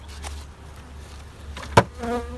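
Honey bees buzz softly around a lifted hive super during a honey harvest, a faint steady drone with one sharp knock partway through and a brief louder buzz near the end.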